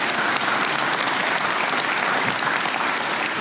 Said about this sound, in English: you may applaud for that